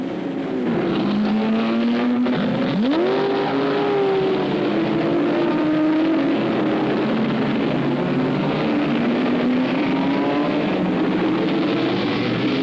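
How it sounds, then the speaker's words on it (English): Race car engines, modified 427 cubic inch Fords, roar continuously, one note swooping up as a Ford Mark IV accelerates past, then a long steady drone of engines at speed. "powered by modified 427 cubic inch Ford engines, similar to those used in stock cars"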